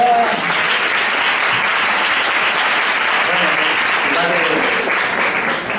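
Audience at a conference session clapping after a speech, a dense, sustained wall of applause that stays loud and even throughout.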